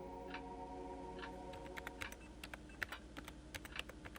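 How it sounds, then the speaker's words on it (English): Rapid, irregular keystrokes on a computer keyboard, close and crisp, over a low electrical hum from a powered-up computer rack. "she switched on the power and started typing away"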